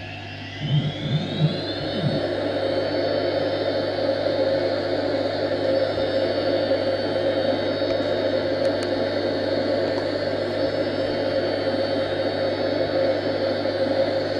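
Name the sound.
Hawker Hunter jet throttling up in flight simulator game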